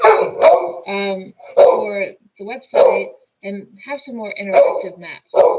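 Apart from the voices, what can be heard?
dog barking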